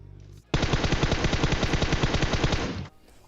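A sustained burst of rapid automatic gunfire in the video game PUBG, loud and close, lasting a couple of seconds before cutting off.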